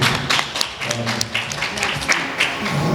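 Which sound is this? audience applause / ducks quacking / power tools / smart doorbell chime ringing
audience applause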